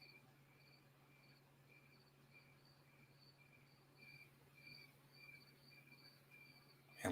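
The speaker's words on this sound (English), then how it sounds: "And listen to the crickets. Such wonderful crickets." Crickets chirp at night in a faint, steady rhythm of repeated short pulses, heard alone against quiet background hiss with a low hum underneath.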